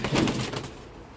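Soft cooing of pigeons close by, a brief burst of low warbling calls that fades out quickly.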